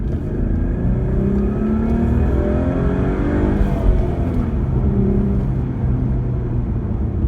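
A 2016 Ford Mustang V6 accelerating hard after a downshift, engine tone rising and sweeping through the revs in a sustained, fairly loud drone heard from the cabin without talk.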